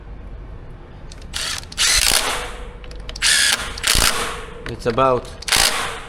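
A torque wrench tightens a wheel bolt on a Kove 450 Rally motorcycle. Several sharp ratcheting bursts sound up close, with a short run of rapid clicks near the end and someone speaking briefly.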